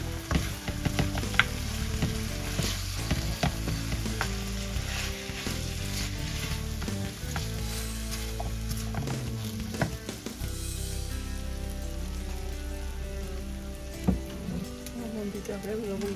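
Spices sizzle and fry steadily in hot oil for a fish head curry with fried mung dal, with intermittent stirring scrapes and clinks close by throughout.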